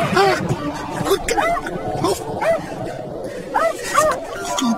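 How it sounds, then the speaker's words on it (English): A cartoon spaniel gives a run of quick, high yips and barks in bursts, mixed with lively voices and background chatter. "Unleash the spaniel!"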